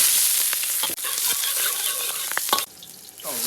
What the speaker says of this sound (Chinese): 倒入青菜